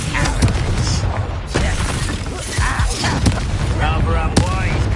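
Confringo blasting spell explosion during combat in Hogwarts Legacy, a series of loud bursts and crackling impacts amid dense battle noise, with voices shouting over it.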